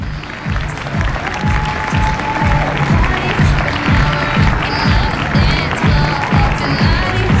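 Rhythmic clapping from a pageant audience at the Miss Bretagne 2022 results ceremony, loud and steady throughout, with music or a faint voice underneath.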